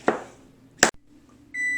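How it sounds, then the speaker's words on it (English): An electronic kitchen timer beeps during strawberry jam preparation, its steady high tone starting near the end after a couple of sharp knocks, close and clear with no talk. "There's my timer going off for 5 minutes."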